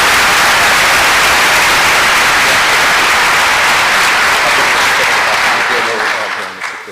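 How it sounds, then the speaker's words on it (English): Sustained loud audience applause fills a school senior awards night ceremony, steady clapping from a large crowd that fades out at the end. "Let's give Tommy a big round of applause"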